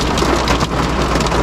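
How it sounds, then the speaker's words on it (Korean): Dense, unbroken downpour of heavy rain mixed with hail in an Australian storm, pounding close and loud with a constant hissing clatter and no voices. "지금 너무 비가 많이 와가지고"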